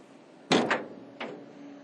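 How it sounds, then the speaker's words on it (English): Tail door of a Majestic trailer being lowered and shut, one heavy metallic bang followed by a quick rattle, then a second lighter clunk a moment later, close and with no voices. "So let's bring the tail door down."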